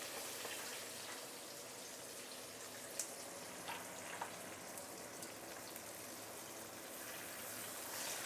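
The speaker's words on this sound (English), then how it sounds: "Let it deep fry from this particular side for the next 1 to 2 minutes before you flip it over" Fish deep frying in hot oil for a claypot fish head dish: a steady, dense crackling hiss with occasional small pops, moderately faint and continuous, no voices.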